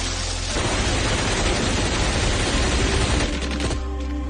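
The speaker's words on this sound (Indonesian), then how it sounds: "suara tembakan tersebut" Dense, sustained burst of gunfire and blasts in a war film scene, loud and continuous for about three seconds before easing into a rumbling tail.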